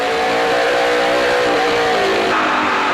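A race truck engine at a Dickies 200 race screams at very high RPM, a loud sustained whine with slight pitch shifts as it holds near the top of its rev range.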